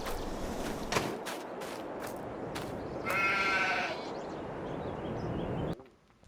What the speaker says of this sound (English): I think everything's good with the sheep.